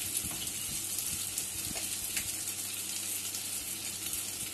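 Spices sizzle and fry in a pan with a little water for masoor dal, including cumin powder, salt, turmeric and chili powder, a steady soft crackle with faint stirring scrapes throughout.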